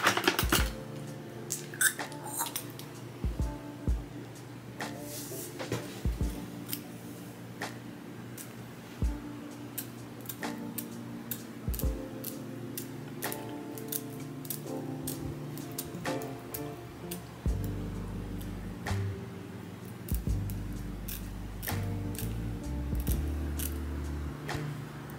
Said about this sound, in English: let's go ahead and cut the lace off